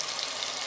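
Onions frying in a pan for a green chicken curry, a steady close hiss of sizzling oil with no talking, lasting under a second.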